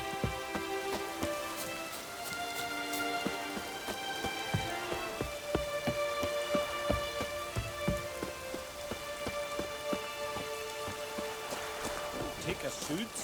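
Steady rain patters on surfaces in The Witcher 3 game world, a dense soft hiss of drops at low level with faint game music tones and quiet character voices underneath.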